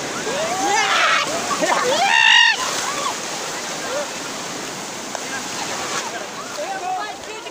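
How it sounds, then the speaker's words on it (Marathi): Sea water splashes and surges along a crowded Konkan coast, a constant wash of surf under excited shouting and calling voices. "माझ्याकडं पाणी उडा रे"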